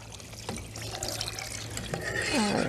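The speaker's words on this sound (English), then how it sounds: "we're gonna add our vegetable broth" Vegetable broth pours into a cooking pot in a home kitchen, a continuous splashing liquid stream with a few clinks and a rising gurgle toward the end, fairly quiet.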